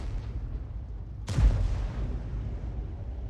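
A single tank cannon shot in the World of Tanks game booms out loud and close, then fades into a rumbling tail over steady low battle noise.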